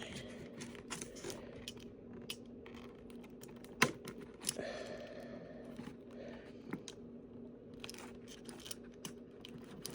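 Soft, irregular snipping and crunching of scissors cutting through stiff car vinyl on a typewriter, close and quiet, with scattered small clicks and no talking.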